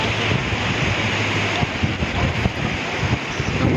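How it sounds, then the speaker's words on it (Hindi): Rushing floodwater and debris-laden flow after a cloudburst in Uttarakashi, a steady loud broadband roar with no breaks, blended with wind buffeting on the microphone. "मलबा है और पानी का बहाव"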